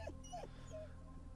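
A dog whimpers and yips in a horror visual novel video game, a few short high whines over a steady droning background score.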